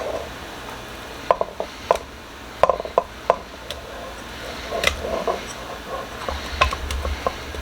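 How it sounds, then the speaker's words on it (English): Meatballs added one by one into a crock pot, a close run of soft thuds and light clinks spaced irregularly over a quiet kitchen background, with no talking. "We're going to add our meatballs to the crock pot."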